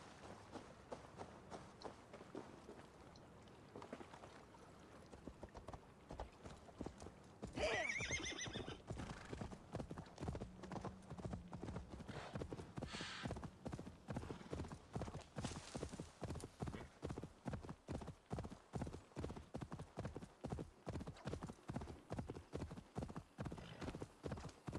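Horse hooves clip-clopping under a rider in Assassin's Creed Valhalla, starting at a walk and breaking into a fast, steady galloping rhythm, with a neigh partway through and faint speech in the background.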